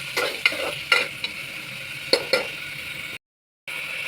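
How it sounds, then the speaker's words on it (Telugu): Chopped onions fry and sizzle in a pan for egg biryani while a spoon stirs them in scraping strokes. The steady close sizzle continues under the stirring and cuts out briefly near the end. "గోల్డెన్ బ్రౌన్ వచ్చే వరకు మనం ఫ్రై చేసుకుందాం."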